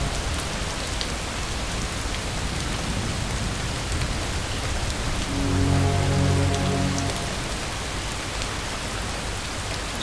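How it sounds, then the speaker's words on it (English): Heavy rain pours down in the video game Far From Noise, a loud, dense, steady hiss of drops throughout, with a brief low rumble swelling in the middle. "Oh, rain."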